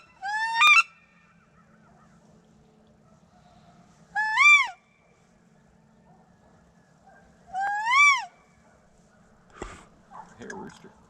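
Ducks calling around a swamp during a morning hunt, three loud, separate honking bursts spaced a few seconds apart over a quiet background, followed by faint rustling near the end.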